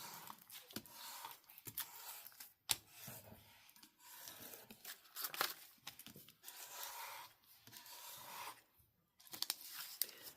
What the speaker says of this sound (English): we're going to use the scraper again to scrape the other side to make sure they're down good